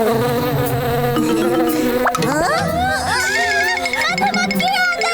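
Cartoon bee buzzing, a wavering, rising and falling drone that sweeps through a Hindi animated scene over music and children's voices, loud and up close.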